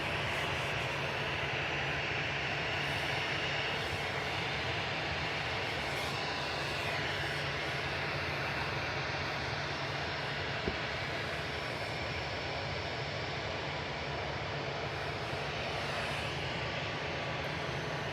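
An airliner arriving at Manchester Airport from the Isle of Man gives a steady, broad jet roar that holds evenly for the whole stretch, with no voices over it.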